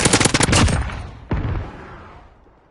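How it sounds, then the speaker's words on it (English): Tap-fired gun in the Modern Warfare video game: a quick burst of several close, loud shots, then one more sharp shot that rings out and fades. "I'm loving tap fire in this gun."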